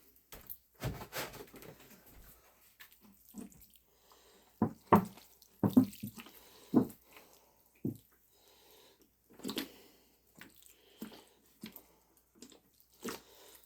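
Water poured from a container to dampen a worm composting bin, filtered town water landing in irregular splashes and drips, bursts separated by quiet gaps.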